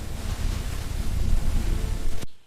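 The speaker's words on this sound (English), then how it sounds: "suddenly, strong winds begin to shake the trees" Strong wind roars through trees on a farm, a loud, continuous gusting rush with buffeting that swells and surges before cutting off abruptly.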